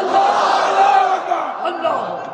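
A large crowd at an Islamic preaching gathering in Chittagong loudly chants the takbir in unison, a dense, close roar of many voices sustained throughout.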